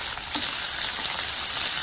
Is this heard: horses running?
no